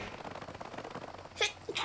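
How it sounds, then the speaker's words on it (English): A sneeze bursts out near the end, followed quickly by a second, shorter sneeze, both sharp and close over a low background murmur. "Again, really sneezy."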